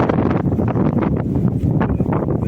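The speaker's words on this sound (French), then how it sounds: "Un peu de vent aujourd'hui." Gusty wind buffets the microphone in a constant low rumble, with fluctuating bursts and a rustling texture throughout.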